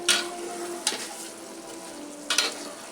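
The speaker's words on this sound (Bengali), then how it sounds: "এই যে এখন আম্মু নাড়াচাড়া করতেছে, আলু দিয়ে কষানো শেষ" Potatoes sizzling in a pan for a potato and eggplant curry, a quiet steady fry with three brief scraping stirs.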